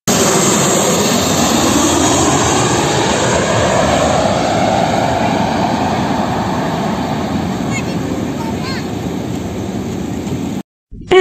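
A loud aeroplane engine roars steadily and close for several seconds, with the pitch sweeping slowly as the plane passes, before cutting off abruptly near the end.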